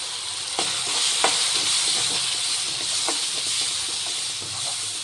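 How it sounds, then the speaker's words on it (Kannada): Garam masala, salt and turmeric fry in hot oil for a cabbage palya, giving a loud, continuous sizzle broken by several sharp stirring scrapes and clicks. "ಇದನ್ನು ಕೂಡ ನೀಟಾಗಿ ಎಣ್ಣೆಯಲ್ಲಿ ಫ್ರೈ ಮಾಡಿಕೊಳ್ರಿ"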